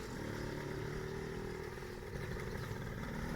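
A Suzuki TS 125 ER motorcycle engine runs steadily nearby, a continuous rattling two-stroke drone at a fairly even idle with no voices over it.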